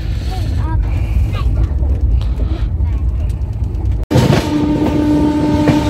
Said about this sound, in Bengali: এই যে মেট্রো একটা ছাড়লো কবি সুভাষের উদ্দেশ্যে।